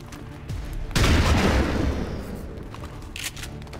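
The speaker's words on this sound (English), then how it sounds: "And let's shoot him!" Gunfire burst in the video game XCOM 2, a sudden loud blast that rings out and slowly fades, with a smaller crack near the end.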